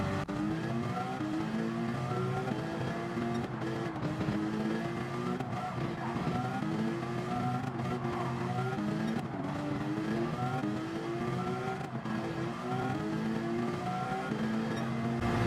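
A Bugatti race car in a racing video game roars and shifts through revs, with tire squeal and skidding under braking into a corner, a continuous engine whine layered over other cars throughout.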